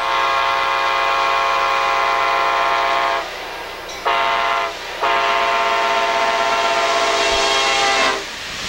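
An Amtrak AMD-103 passenger train rushes past at speed, its loud multi-tone horn sounding in three long blasts with short gaps, over a roaring rumble of wheels and wind close by.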